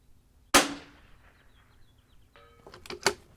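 A .22LR Vudoo Gun Works V-22 rimfire rifle fires rifle match ammunition outdoors, giving one sharp crack and then a quieter, shorter report near the end, with faint ringing in between.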